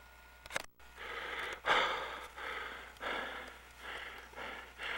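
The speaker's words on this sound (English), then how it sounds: "I'm panting as much out of excitement as I am out of the hard work" Heavy, rhythmic panting from a skier after climbing uphill on a backcountry yurt trip, with a series of loud, close breaths in regular bursts and one sharp gasp near the start.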